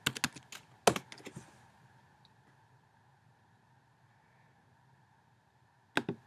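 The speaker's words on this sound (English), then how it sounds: "Then you type up something like HTML coded games." Fingers tapping a computer keyboard in a quick burst of clicks at the start, a long quiet stretch over a faint hum, then a final few keystrokes near the end.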